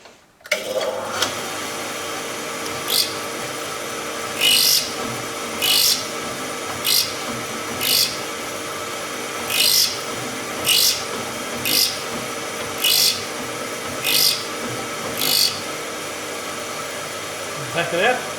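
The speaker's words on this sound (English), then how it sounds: "I'll turn it back on and take another couple of swipes at the drill." A drill-bit grinding machine hums steadily while a drill bit is repeatedly pressed against the wheel for sharpening, producing about a dozen short, bright rasping bursts at regular intervals.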